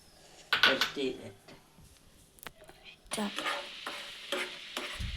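Powdered jaggery melting in a little water in a pan is stirred with scrapes and soft sizzling in irregular bursts, close and fairly quiet.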